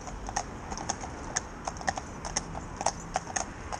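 A Friesian horse in harness training walks steadily, its hooves giving a regular clip-clop on a hard surface at close range, with no talk over the footfalls.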